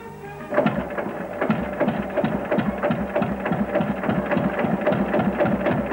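Two-cylinder horizontal engine of an old MTZ 120 tractor being cranked and catching, with fuses as a starting aid, a loud, steady rhythmic chugging of evenly spaced beats that runs throughout the clip, with no talk.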